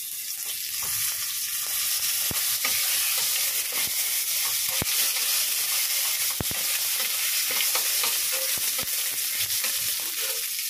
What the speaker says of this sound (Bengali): ছোট্ট টমেটো, ফাঁক করে কাটা, এটা দিয়ে দেবো তেলের মধ্যে